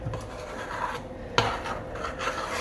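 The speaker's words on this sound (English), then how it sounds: "Stir it carefully." Spoon scraping and rubbing around a pot of cocoa berry oatmeal with cinnamon, a steady close rasping stir with one sharper knock midway.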